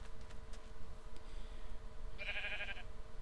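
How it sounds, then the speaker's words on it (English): A single short sheep bleat in Minecraft, fairly quiet and close, sounding once over a low background murmur near the end. "May I have a sheep? I name him Terrence."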